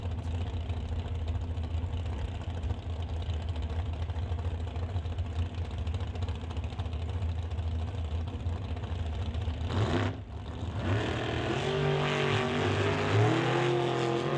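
Drag racing cars, including a dragster, run on a drag strip with a sustained engine drone from a distance, then a brief break and a rising, revving engine roar that grows louder.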